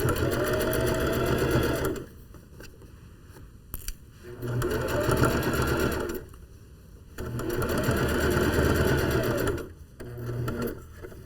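Bursts of fast, rattling stitching from a sewing machine running a zigzag seam, loud and close, each lasting a few seconds and separated by brief pauses with faint handling sounds.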